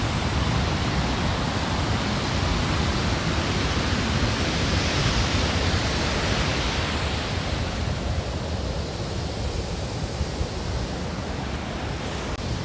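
Heavy surf crashes along the rocky coast at Red Rocks Reserve in New Zealand, a dense, unbroken roar of rough sea and wind that eases slightly toward the end.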